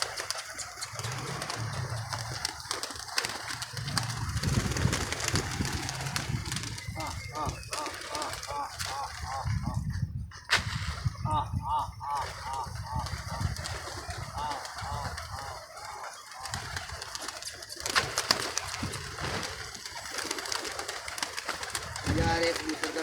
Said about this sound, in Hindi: बड़ा अच्छा कबूतर है ये